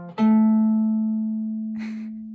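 A pivot arpeggio voicing rings out on a single instrument: the first note stays put and the next three drop an octave, leaving a clear sustained tone that decays slowly, then a short noisy burst near the end.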